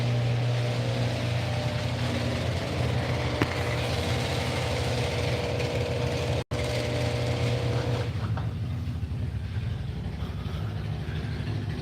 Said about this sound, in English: I hear motorcycles running.